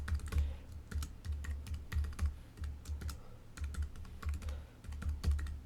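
Fingers type a file name on a computer keyboard, a run of quick, irregular key clicks with short pauses between bursts, close up and fairly quiet, with no talking.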